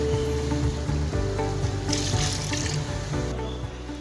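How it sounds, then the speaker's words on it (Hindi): Water is poured into a cooking pot already holding stock for chicken achari pulao, a steady splashing and gurgling stream heard close and fairly loud, with no talking over it. "तो बाकी हम इसके अंदर पानी ऐड करेंगे।"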